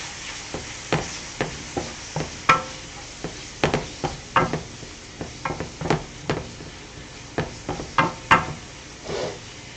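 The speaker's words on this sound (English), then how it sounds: "we're going to go put in my onions and my green peppers right in to get those to saute as well" Onions and green peppers cooking in a pan for enchilada filling, with a steady background hiss and a run of sharp, irregular utensil knocks and scrapes against the pan, close and fairly loud, no talking.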